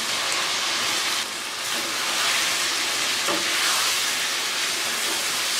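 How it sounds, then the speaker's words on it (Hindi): Beef liver (kaleji) frying with spices and ginger-garlic paste in a pan, a steady loud broadband sizzle and hiss running continuously throughout with slight swells, no talking. "अब इन मसालों के साथ हम कलेजी को थोड़ी देर भून लेंगे"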